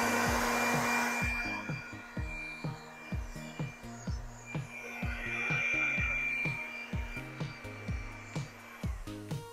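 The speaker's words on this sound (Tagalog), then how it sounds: "So, kung may blower tayo, mas mabilis nating patuyuin. So, itatapat lang natin sa likod ng condenser." An air blower drying the condenser of a commercial ice machine, a loud steady whooshing roar with a sustained hum and a regular series of knocking clicks throughout.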